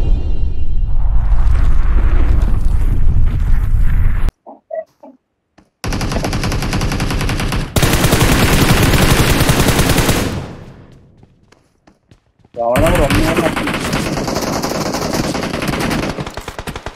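Automatic gunfire in BGMI / PUBG Mobile: loud, sustained bursts of rapid shots, broken by a brief near-silent gap and a short pause before another long burst resumes.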